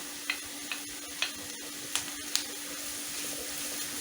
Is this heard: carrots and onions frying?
yes